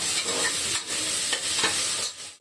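Tomato, garlic, curry leaves and ginger sauté in a pan for coconut rice, a close, busy sizzle with steady scraping and stirring before it briefly drops away at the end.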